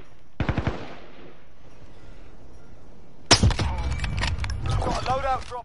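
Video game gunfire: a quick burst of several shots, then a denser clatter of automatic fire mixed with other battle noise, close and loud, with a voice talking over the later part.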